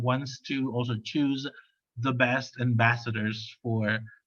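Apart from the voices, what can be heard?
No distinct noise like a dog, phone or traffic.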